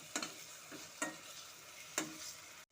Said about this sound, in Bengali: সমস্ত মশলার সাথে আলুটাকে ভালো মতো কষে নেব।